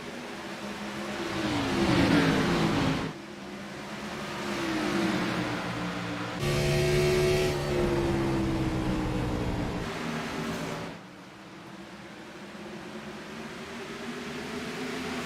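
Race cars in the iRacing simulator roaring back to speed on a green-flag restart. Loud engine notes climb in pitch in several surges as the pack accelerates, then settle into a steadier drone.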